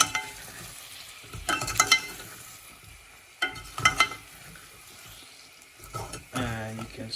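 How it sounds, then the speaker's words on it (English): Tomatoes are stirred in a cooking pan for a pasta sauce, a low sizzle broken by a few clusters of scraping and knocking strokes, fairly quiet and close. "Drop the tomatoes, give that a good stir"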